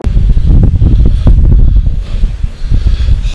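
Strong wind buffets the microphone outdoors in loud, gusting rumbles that rise and fall throughout, with no speech.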